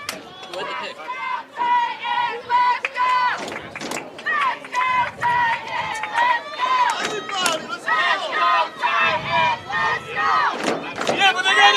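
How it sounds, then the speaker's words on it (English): High school varsity football playoff crowd in the bleachers, Mount St. Michael versus Holy Trinity, screaming and chanting in loud rhythmic waves with heavy thumps of stomping feet under the voices. "Feet are stomping. Voices are screaming."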